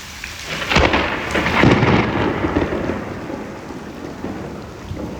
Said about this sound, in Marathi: पावसाळ्यात नाही एवढ्या विजा चमकत, तेवढ्या आज चमकतात पावसाळ्याच्या आधीच